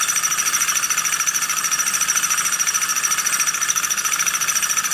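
A high-temperature two-piston gamma Stirling engine runs close by, giving a fast, even, rhythmic whirring pulse with a bright hiss on top, steady throughout with no voices.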